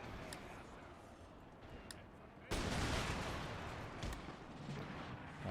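Cannon fire in Empire Total War comes as a sudden heavy booming volley. Dense overlapping blasts and rumble sustain at a steady loud level after a quieter, distant battle din, with no speech.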